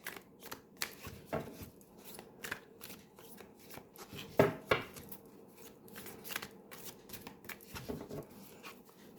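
Tarot cards being shuffled by hand, a loose series of quick papery riffles and soft slaps close up, with short pauses between bursts.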